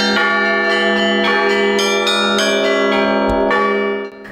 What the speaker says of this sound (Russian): Мелодии для старинного искусства игры на колоколах